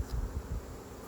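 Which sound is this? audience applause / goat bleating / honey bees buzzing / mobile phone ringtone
honey bees buzzing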